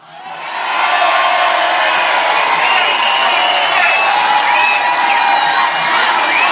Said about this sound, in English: Give a big cheer to my Uncle Shug.